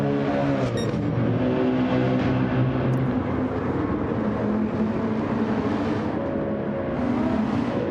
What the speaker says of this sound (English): The sound of this Mercedes hits different.